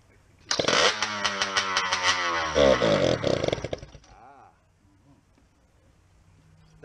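A hot saw engine with a Tillotson carburetor screams at full throttle for about three seconds, a loud, raspy high-revving snarl that climbs in pitch and then cuts off abruptly, leaving near silence.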